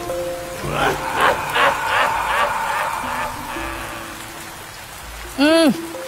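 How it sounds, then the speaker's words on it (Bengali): Heavy rain and gusting wind in a cartoon storm scene: a steady, dense downpour hiss runs throughout beneath tonal music, with a loud whooshing swell near the end. "বাইরে তো প্রচুর বৃষ্টি হচ্ছে আর এতটা হাওয়াও দিচ্ছে"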